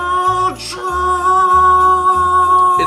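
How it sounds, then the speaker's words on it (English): A loud, steady mechanical drone from the Boilermaker Special mascot vehicle while driving, with a sustained whistle-like tone on top and a low rumbling pulse that chugs in repeating bursts, with no talking. "It's the Boilermaker Special, and it makes noise when it's driving."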